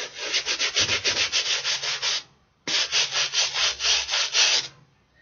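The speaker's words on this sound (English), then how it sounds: "It's a brush, so obviously, you know what goes on with a brush." A brush scrubs shoe soles in quick, rhythmic back-and-forth strokes, loud and close: two bursts of rapid rubbing split by a short pause.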